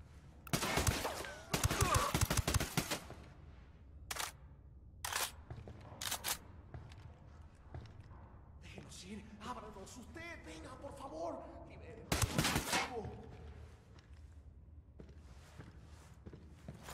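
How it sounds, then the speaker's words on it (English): Gunfire in the tactical shooter Ghost Recon Wildlands, with several loud bursts and single shots spread out over the scene, mixed with game sound effects and voices talking. "Opening fire."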